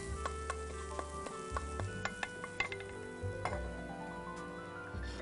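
Spice paste for beef tehari sizzling in a pot after being poured in, a soft hiss with scattered clinks and ticking metal taps, fairly quiet and with no talk.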